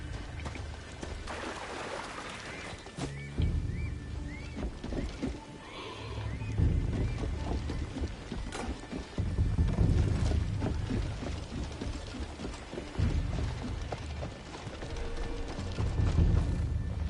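Horse in the Assassin's Creed Shadows game: repeated whinnies and snorts over a steady clip-clop of hooves, fairly close, with ambient game noise underneath and no talking.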